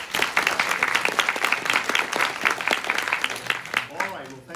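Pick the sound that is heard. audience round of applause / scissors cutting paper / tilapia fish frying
audience round of applause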